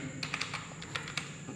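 Fingers type on a computer keyboard while text is entered in Microsoft Word: a quick, irregular run of light, close-up key clicks, quiet and with no talking.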